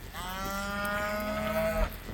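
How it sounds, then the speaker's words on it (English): A single cow in a neighboring pasture lets out one long, loud, sustained moo lasting about two seconds, rich and harmonic, ending abruptly with a soft thump, with no talking. "cows in the neighbor pasture are jealous."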